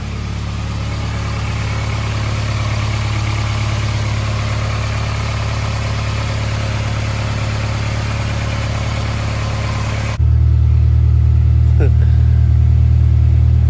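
A Honda CD5 Accord with a K-series engine swap idles steadily and loudly on a cold day, a continuous low rumble that shifts to a deeper, heavier hum near the end.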